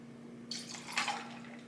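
White cranberry juice poured into a Christmas margarita, a short close trickle of liquid splashing into a glass for about a second, quiet, with a faint steady hum behind it.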